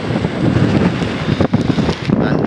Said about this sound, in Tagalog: Lakas na naman ng hangin.